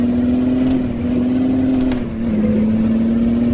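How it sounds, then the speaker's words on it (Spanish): SISU C500 truck in Euro Truck Simulator descending Norwegian mountain roads on engine brake: a loud, steady low diesel drone with a slight dip in pitch partway through, continuous and alone. "se trata de ir frenando lentamente con freno motor"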